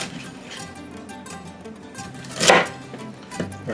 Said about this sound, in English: we're just going to large chunk these as well